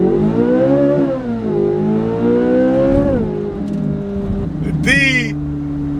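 A Chevrolet Corvette C8 Z06 with a 670-horsepower engine revving to 8,600 rpm accelerates hard from about 10 mph, its rising and falling harmonic wail loud and close, with a sharp high-pitched surge near the end.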